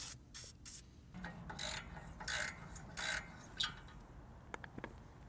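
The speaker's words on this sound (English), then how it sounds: "So I'll spray a bit more penetrating oil." Several short hissing bursts from an aerosol can of penetrating oil sprayed on a Honda Ridgeline oil pan, close by, separated by brief pauses and a few small mechanical clicks.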